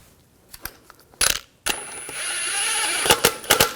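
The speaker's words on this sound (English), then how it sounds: "Take the lug bolt, get that started." A lug bolt is threaded by hand onto the front wheel of a 2004–2009 Audi A4 Quattro, giving a few short metallic clicks and taps, then a steady ratcheting whirr with sharp clanks near the end.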